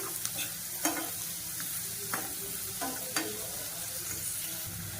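Onions and green chillies sautéing in a pan for potato biryani, a soft continuous sizzle broken by a few sharp scrapes and knocks of the spatula, quiet and near, without speech.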